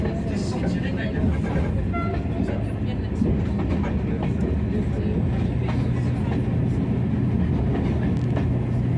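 An X-2200 railcar rides the Gentiane Express line in Auvergne, giving a loud, continuous engine drone and rumbling wheel noise heard from on board, with faint voices now and then.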